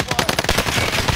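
Rapid automatic gunfire in a multiplayer shooter video game, a dense burst of loud, close cracking shots with no pauses.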